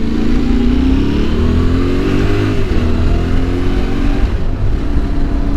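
A Yamaha Tenere motorcycle engine drones loud and close while climbing uphill, its pitch rising steadily under acceleration, then shifting after a gear change and holding on.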